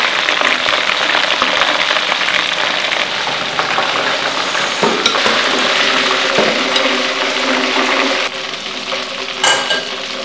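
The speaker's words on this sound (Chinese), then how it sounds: "看来炸8分钟是不行，还得炸。" Chicken drumsticks deep frying in oil over low heat, a steady dense bubbling sizzle close by and fairly loud, with brief clatters partway through.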